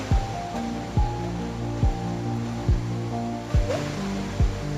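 Steady roaring rush of Veer, a perennial waterfall in the dense forest of Konkan, heard as continuous broadband water noise with faint recurring tonal swoops, no voices.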